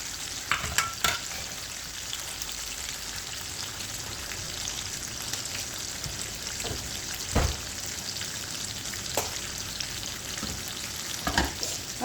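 Beef steak sizzles in butter in a pan over a low flame. The crackle is steady and bright, with a few louder pops and spatters, and no talking.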